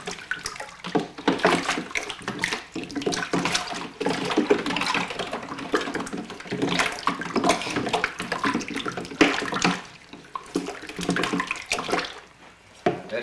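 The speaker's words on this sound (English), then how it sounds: "We'll put another gallon of water in it, stir it some more." Water poured from a container into a bucket of moonshine mash made from sugar and water, splashing and gurgling in uneven bursts with short pauses, close and alone.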